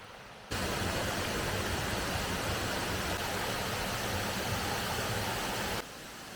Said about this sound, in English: That is definitely the falling of water.